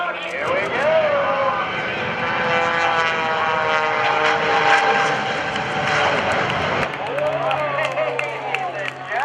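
Kevin Coleman's propeller airshow plane roars past while racing a jet car, a loud sustained engine drone with shifting pitch, crowd noise and an announcer talking over it, ending in a lower steady hum.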